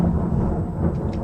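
Thunder from a storm rolls as a low, steady rumble, moderately loud and filling the whole moment without any voices.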